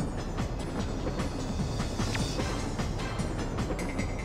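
Moving train in the Fullmetal Alchemist and the Broken Angel video game, a dense continuous rumble and rattle on the train rooftop with faint rhythmic clatter, loud and steady without talk.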